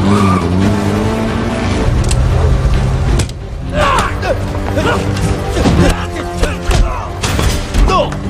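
During a car chase in an action film, engines roar and tires screech in repeated skids, with crashing, shattering impacts scattered over loud, busy chase audio.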